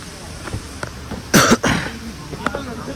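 One person gives a short burst of coughing, loud and close, at an outdoor night gathering by a waterfall eco-village, with faint chatter and background noise around it.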